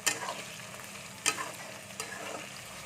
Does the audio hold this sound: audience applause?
no